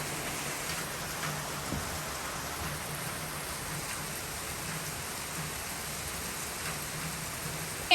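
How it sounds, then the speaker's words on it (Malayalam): Steady heavy rain pours down continuously, a dense even hiss with no voices. "നല്ല മഴ പെയ്തുകൊണ്ടിരിക്കുക ഇന്ന് മഴ നിന്നിട്ടേ ഇല്ല"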